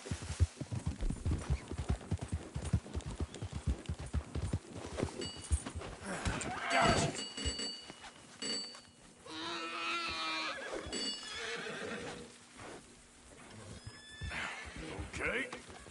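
Horse hooves clip-clop and a horse neighs in the open-world game Red Dead Redemption 2, with steady hoofbeats and whinnies mixed under voices and game ambience.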